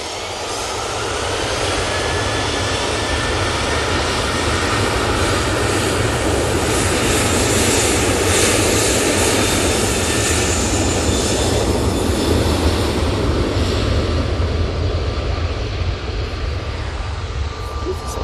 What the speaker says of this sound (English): Ryanair on the roll.